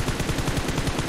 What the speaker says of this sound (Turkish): Silah sesi